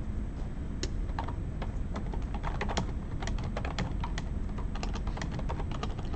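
Fingers type on a computer keyboard in quick irregular bursts of sharp clicks and key taps, close and continuous, with no speech.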